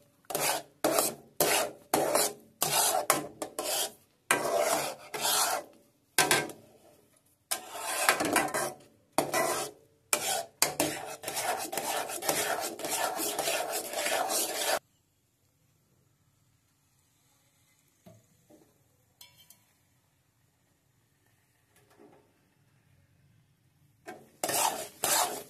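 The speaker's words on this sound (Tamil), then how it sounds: "நெய் விட்டு கலரிக்கலாம்." Sweet halwa-like mixture stirred and scraped with ghee in a pan, heard as loud rhythmic rasping strokes in rapid bursts for about fifteen seconds, then near silence with a few faint clinks before scraping briefly resumes.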